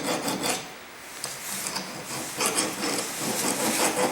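A metal file rasps back and forth across a part in quick, close, rhythmic strokes, loud and continuous with no voices.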